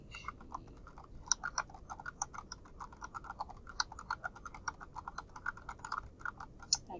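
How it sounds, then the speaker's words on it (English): Steady typing on a computer keyboard, copying a drill from a textbook: a close, rapid run of crisp key clicks with an uneven rhythm and small pauses, heard alone. "So I'm just going to start typing from the textbook."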